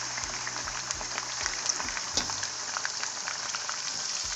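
Chicken pieces fry with browned ginger in a pan over a high flame for a karahi, giving a steady broadband sizzle with scattered pops and crackles, moderately loud and continuous with no talking.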